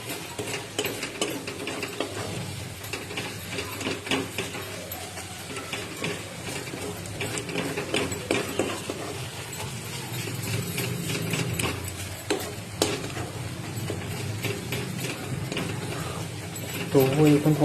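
Mutton curry spices fry in oil in a pan while being stirred, with soft sizzling under intermittent scraping and tapping of a spoon, continuing for a long stretch.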